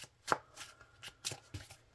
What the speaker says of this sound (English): All right, one quick shuffle and then it's time to go.